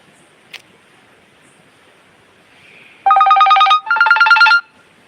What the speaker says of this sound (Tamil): ஃபோன்கள் வேறு வருது